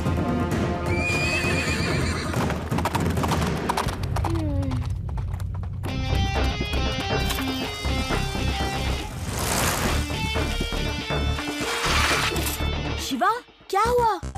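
Black horse in an animated kids' show, loud neighs and whinnies mixed with clip-clopping hooves, with talk, music and other effects around it.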